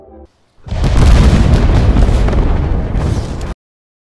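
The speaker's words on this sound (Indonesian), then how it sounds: "tiba-tiba saja terjadi ledakan di pondok" A single loud explosion at a cabin in a film bursts in after a brief quiet, a heavy boom with a rumbling roar sustained for about three seconds before cutting off abruptly.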